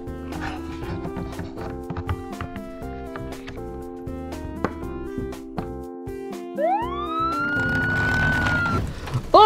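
A toy fire truck siren rises and wails over a busy tonal musical backdrop with dog barking and whimpers, growing louder toward the end.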